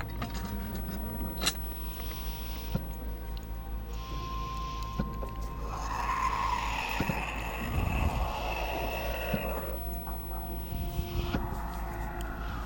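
A gas release hisses out after a gas button is pressed in the video game The Dream Machine, a steady airy spray over a few seconds amid low background hum and faint ticking.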